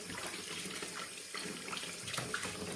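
Sheep trotters washed under a running tap, with a steady stream of water splashing continuously at moderate volume and faint handling noises mixed in.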